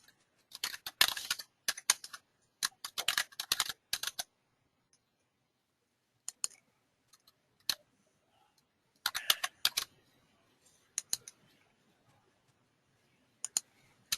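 Quick bursts of computer keyboard typing as data is entered into dental insurance software, with clustered keystrokes separated by pauses and a few isolated clicks, close and clear with no talk.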